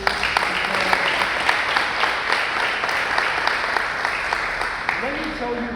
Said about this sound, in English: can you give me another wave of applause, please?